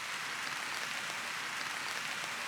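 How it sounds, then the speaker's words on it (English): Rain patters steadily on a tarp at a wild camping spot, a dense, even hiss of countless drops close overhead with no pauses or voices. "Rain started."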